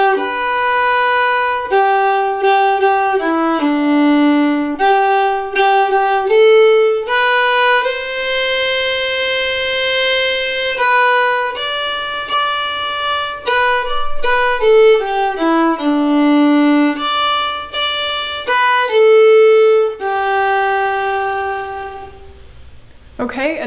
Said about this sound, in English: let's go ahead and play that A section together at a slow tempo